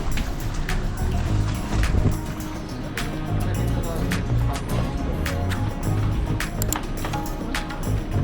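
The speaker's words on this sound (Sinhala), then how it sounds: "ඉතින් අද මේ බෝට්ටුවේ තමයි අපි යන්නේ." A boat travels over the sea in the Maldives, a loud steady rumble of engine and rushing water with wind and hull knocks throughout, a voice speaking over it.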